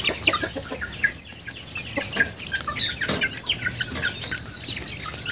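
Young roosters and chickens being raised on a Thai backyard farm cluck in a busy, overlapping chorus of short calls at close range, with no talk.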